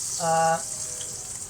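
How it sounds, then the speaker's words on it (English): Silver skin onions, pickled vinegary ones kept whole, sizzle steadily in a hot frying pan, a soft continuous hiss with a brief tonal hum near the start. "I'm going to whack in some silver skin onions"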